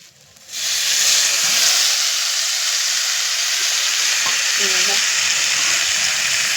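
Water poured into a pan of frying soybean vegetable sets off a sudden loud, steady hiss of steam and sizzle that starts abruptly and continues close up, with a faint brief clink partway through.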